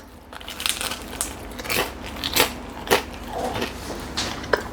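Crisp bites into a crunchy, hollow Italian pizza crust made from homemade dough produce several sharp crackling crunches spaced irregularly, close and fairly loud.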